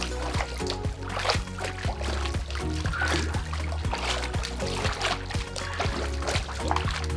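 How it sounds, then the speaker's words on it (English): Continuous water splashing and sloshing from a person working out in a Hydropool swim spa, steady and close, with rhythmic churning throughout and a faint background beat. "It's kind of fun to splash around in the water too."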